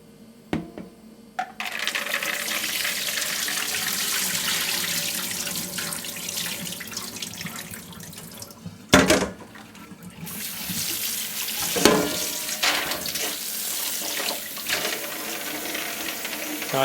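Pumpkin seeds are rinsed and strained under a running kitchen tap, a continuous splashing rush of water with brief clinks and a sharp knock midway as the flow is interrupted and restarted.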